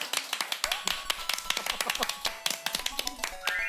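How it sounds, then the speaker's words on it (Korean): A studio audience applauds on a Korean TV talk show, with sharp, crisp claps in an uneven burst, close and fairly loud, and faint tonal sounds mixed in behind. "여러분 박수!"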